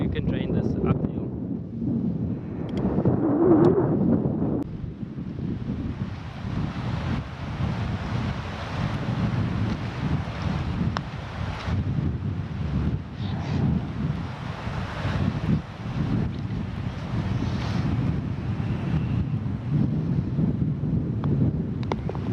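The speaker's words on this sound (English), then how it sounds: "wind a bit off the left" Wind gusts across an open golf course at Gonubie, roaring steadily into the microphone as a continuous rumble, with a voice heard briefly early on.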